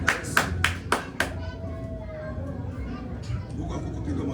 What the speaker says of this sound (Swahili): Huko kukupiga makofi